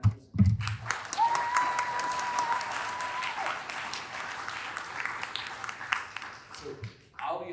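An audience at the ML4H 2023 machine learning for health workshop applauds the organizers. The clapping is steady and moderately close and lasts several seconds, with a short voice at the start and a faint tone partway through.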